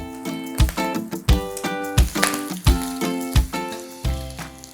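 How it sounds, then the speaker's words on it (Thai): Bacon strips about four inches long fry in a hot pan for salt and chilli bacon, giving a loud, steady sizzle broken by regular clinks and taps of a utensil turning the pieces. "ก็เดี๋ยวเราจะมาเจียวเบคอนกันก่อนนะครับ"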